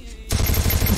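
Gunfire in the video game Free Fire starts abruptly and runs as a fast, loud burst of rapid shots close by for the rest of the second, with no talking.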